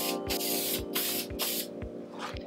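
Contact adhesive sprayed from an aerosol can onto a surface for a vintage Porsche 911 trunk cover in a closed garage: a series of short, hissing bursts in quick rhythm, close and fairly loud, with no talking.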